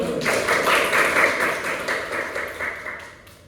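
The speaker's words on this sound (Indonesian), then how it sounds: "Tepuk tangan buat Atsa." Students in a classroom clap for a classmate named Atsa, a steady patter of applause from a small group that slowly fades out, with no talking.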